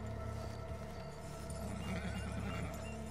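A horse in a video game whinnies over clip-clopping hooves, a short neigh standing out against a low droning game soundscape.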